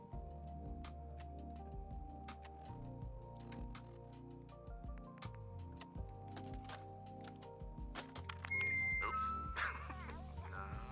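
Dogmeat, the dog companion in the video game Fallout 4, gives short excited yips and whimpers over a layered game soundscape of music and effects, the calls rising near the end.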